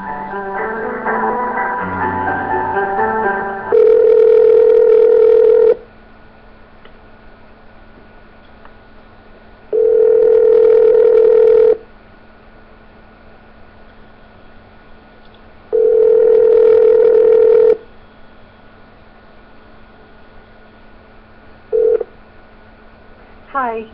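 A telephone call rings out before reaching voicemail: three long, loud ringback tones at regular intervals over a quiet line, with a short clipped tone at the end and some faint background sound before the first ring.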